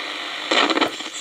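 A long and medium wave radio receiver is switched on. After half a second of near quiet it bursts into loud, broadband static hiss that wavers briefly and then settles.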